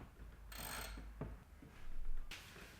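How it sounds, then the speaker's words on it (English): Ratchet wrench working a 10mm bolt inside the dash of a Subaru WRX STI, a few short close clicking bursts separated by quiet pauses, fairly faint. "we're going to have to remove a 10mm bolt screw that's just hidden in here"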